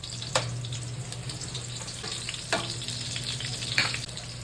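Onions fry in hot oil in a pan for Bicol Express, a quiet, steady sizzle with a few sharp clatters from stirring and no talk.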